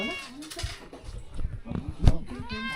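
A cat gives a few drawn-out, rising and falling meows at close range, mixed in with people talking nearby.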